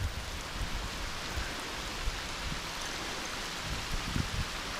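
Steady rain falls through the night at a carp fishing spot during a stormy night, a dense continuous hiss with scattered low thumps of drops striking nearby surfaces, no talking.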